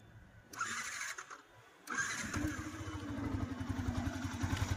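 A motorcycle engine cranks and catches, then settles into a steady, throbbing idle close by, with some mechanical clatter.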